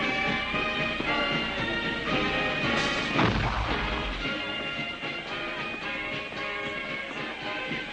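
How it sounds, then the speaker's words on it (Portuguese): Fourth of July fireworks display in New England, a dense, continuous barrage of booming explosions and crackle with one heavier low blast near the middle. "o ponto alto das festividades do dia era uma exibição de ativos fogos de artifício."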